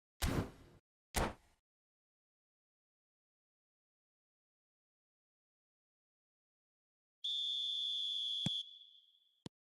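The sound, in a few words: referee's whistle starting the second half, from eFootball video game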